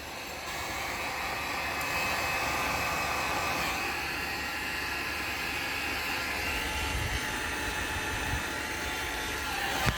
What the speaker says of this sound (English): heat shrinking it.